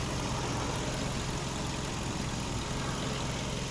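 A 2009 VW Touran's 1.6 MPI BSE petrol engine, 102 hp, idles steadily with an even, faint mechanical hum and no voices.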